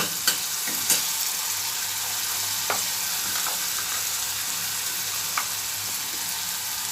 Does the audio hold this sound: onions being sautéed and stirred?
yes